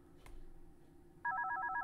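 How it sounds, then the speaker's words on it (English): Electronic telephone ring from the One Night at Flumpty's horror video game, a steady warbling two-tone trill that starts abruptly and stays loud over a low ambient drone. "There's a phone call."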